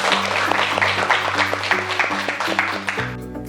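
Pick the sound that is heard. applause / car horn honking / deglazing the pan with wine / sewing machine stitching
applause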